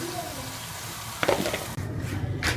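Pakoras frying in hot oil, a steady crackling sizzle with bursts of stirring and scraping as they are moved in the pan, fairly loud and close, with brief talk mixed in.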